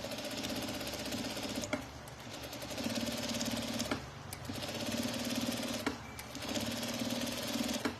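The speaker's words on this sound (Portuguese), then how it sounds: "bem-vindo à operação da máquina de costura Jack" A Jack industrial sewing machine stitching a flat seam, running in steady loud bursts of rapid needle clatter with brief pauses between runs, close and alone.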